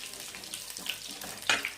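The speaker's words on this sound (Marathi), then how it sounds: "फोडणी होईपर्यंत छान असं परतून घ्यायचं लसूणला" Coarsely crushed garlic fries in hot oil over medium heat for a tempering, giving a soft, steady sizzle with a brief louder crackle near the end and no voices.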